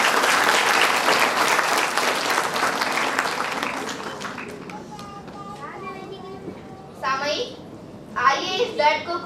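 A school audience at an inter-school mushaira in Solapur bursts into loud, dense applause that fades out over several seconds, followed by children's voices chattering nearby.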